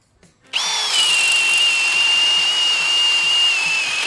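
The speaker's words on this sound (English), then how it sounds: "We're going to go into a treated 4x4 first. Alright, regular drill set to high setting" A Milwaukee M18 Fuel drill on its high setting bores a treated 4x4 with a Daredevil spade bit, starting abruptly into a loud, steady high whine that holds without pause for several seconds.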